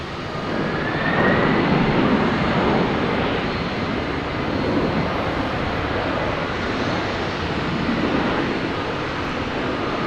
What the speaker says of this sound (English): believe this is the FedEx 767 coming in from Memphis